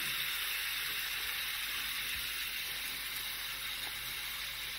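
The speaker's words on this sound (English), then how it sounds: "Give it a little stir, hear that sizzle?" Hamburger meat browns in a cast iron pan, giving a steady, faint, even sizzle and hiss that runs unbroken throughout with no voices.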